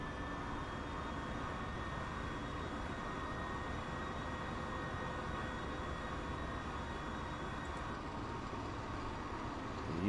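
Diesel trains race side by side along the track in Transport Fever, a steady continuous rumble of engines and rolling wheels at even loudness throughout, with no talk.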